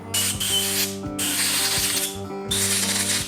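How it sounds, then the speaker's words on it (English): A compressed-air nozzle blows off freshly cleaned parts from a Harley-Davidson Evolution engine in a workshop. It comes as three loud, close hissing blasts with short gaps between them, over a steady mechanical hum. "Let me get my air nozzle over here."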